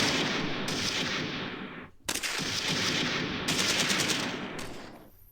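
Machine gun fire in Close Combat 3 rattles in long, loud, rapid bursts, broken by a brief gap near the middle and continuing to the end.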